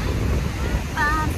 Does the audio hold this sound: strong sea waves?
yes